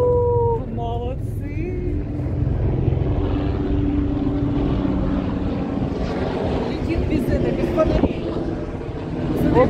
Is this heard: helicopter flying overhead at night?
yes